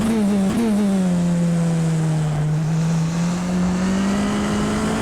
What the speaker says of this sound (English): I'm going to let you enjoy the sound of the engine